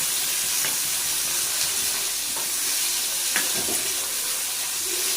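Chopped onion and tomato fry in a hot sambar tempering, a constant bright sizzle with a few sharp stirring clicks, close and moderately loud, with no voices.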